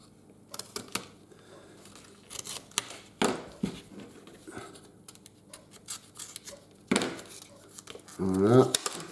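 Someone opens the package of a Tamiya scale modelling tool, with close crinkling, scratching and tearing in irregular bursts, a couple of louder rips, and a short clatter at the end.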